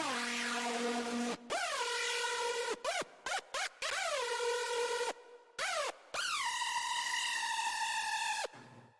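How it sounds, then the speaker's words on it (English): The Millennium synth preset from the Doomsday Serum bank sounds as a loud, bright, harmonically rich lead with repeated upward-bending pitch swoops, chopped by brief gaps into stuttering bursts before a long sustained tone that drops away at the end. "Next up, we have the Millennium synth."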